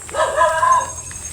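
Dogs bark and yip briefly at a distance outdoors, a short cluster of faint calls over low background noise.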